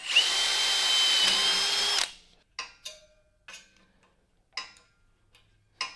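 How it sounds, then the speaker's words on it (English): A power drill whines loudly for about two seconds while drilling metal on a Honda chopper motorcycle, then stops, followed by several sharp metallic clicks and taps spaced apart in quiet. "I'm going to drill and tap in here for M4"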